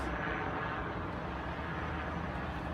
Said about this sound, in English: if you can hear the helicopter, that's a news helicopter above us.